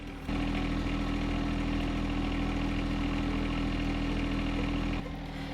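A John Deere 1025R compact tractor engine idles close by with a loud, steady, even rumble that drops away abruptly near the end.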